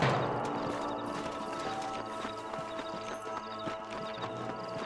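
Rhythmic clip-clop of horse hooves trotting in Red Dead Redemption, with layered game ambience and music beneath, moderately faint.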